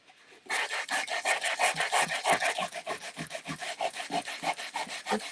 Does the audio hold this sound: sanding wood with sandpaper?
yes